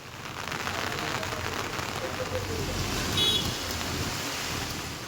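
Heavy rain pours down around Ambur and Vaniyambadi in Tirupattur district, Tamil Nadu, as a dense, steady hiss that swells slightly midway.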